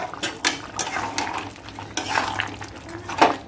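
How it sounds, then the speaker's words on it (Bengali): Chicken masala with added cumin powder is stirred in a pan, giving repeated scraping and clinking of a spoon against metal over a faint sizzle, close and steady, with no talk. "ভালো করে মশলাটা মিশিয়ে নেব"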